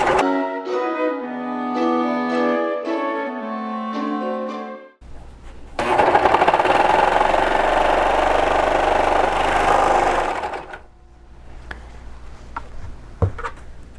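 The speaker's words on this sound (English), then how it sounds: "the beauty of doing them on a serger is you get rid of all those excess edges" Fabric stitched on a serger sewing machine while making holiday decorations, a loud fast whirring run of several seconds that stops abruptly, following a stretch of music.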